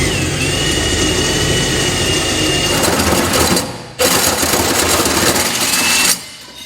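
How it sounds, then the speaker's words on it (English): A hole saw cuts through the steel bed of a 2012 Ram 2500 pickup for a gooseneck hitch, giving a loud continuous whine that briefly stops and restarts, then cuts off near the end. "So I'll get this lined up here, get our hole saw lined up,"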